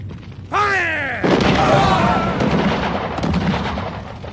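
A firing squad volley rings out in a radio horror drama, one loud, sharp blast of massed rifle fire that rolls into a long rumbling decay, following a man's drawn-out shouted order.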